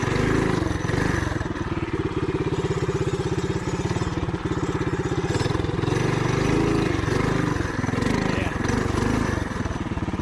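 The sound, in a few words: TrailMaster mini bike engine running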